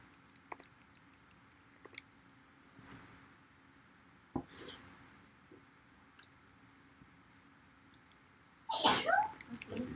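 A single sharp sneeze bursts out near the end, loud and close, in a quiet room during an R programming lesson, preceded by scattered soft clicks and faint keyboard taps.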